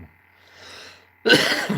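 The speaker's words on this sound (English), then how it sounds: "Coughing now." A single sharp cough bursts out near the end after a stretch of quiet, close and fairly loud.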